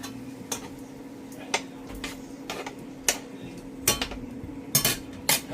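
Stirring food in a cooking pot, a series of sharp, irregular metallic clinks and taps of a utensil against the pot over a low steady hum, close and fairly faint, without talk.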